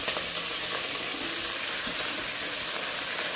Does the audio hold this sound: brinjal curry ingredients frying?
yes